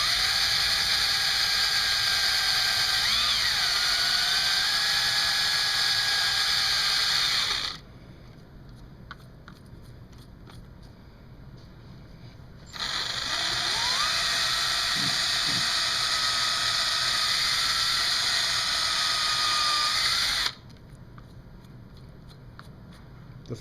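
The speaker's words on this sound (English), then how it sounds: "we're going to lay the drill down at the angle that we need to bring into the first pickup pocket" A power drill whines steadily as it bores at an angle through a guitar body into the first pickup pocket, in two long continuous passes separated by a quiet pause with faint handling noise.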